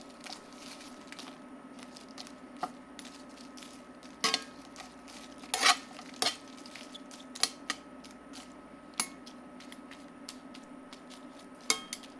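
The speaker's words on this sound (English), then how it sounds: "To bring the oils out of these chilies, we're gonna toast them for a little bit" De-seeded dried chilies toasting in a pan give scattered dry clicks, taps and scraping knocks, quiet and irregular over a faint steady hum, with no voices.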